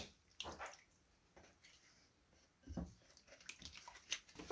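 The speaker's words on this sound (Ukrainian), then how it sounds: "І тепер заливаю цим гарячим молоком і з медом." Hot milk with honey poured over rolled dough, a few short, soft splashing and sloshing bursts, close and fairly quiet, no talking.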